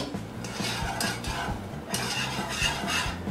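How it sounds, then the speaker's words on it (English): A chocolate peanut butter cookie mixture bubbles at a low boil in a pot on the stove, a steady soft bubbling texture with a faint low rumble running throughout, close and continuous with no voices. "let it's starting to boil a little bit. Let it boil for about 1 minute"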